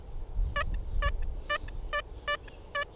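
An XP Deus metal detector in a field sounding its target signal: six short, clear beeping tones in a regular rhythm over low ground rustle and handling noise.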